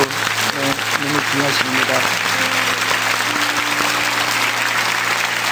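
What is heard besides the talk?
church congregation applauding the teachers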